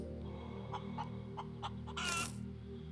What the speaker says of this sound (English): Oh, my chicken!